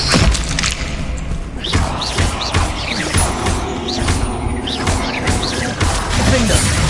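Bombarda spell blasts from Hogwarts Legacy combat, a dense run of smashing, thudding impacts and whooshes in steady succession over a busy game soundtrack, with a voice shouting spell names now and then.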